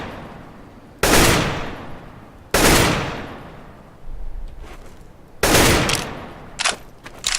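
Gunfire from CS:GO: three loud, sharp shots ring out roughly a second and a half apart, each decaying quickly, with fainter shots in between and a final quick pair near the end.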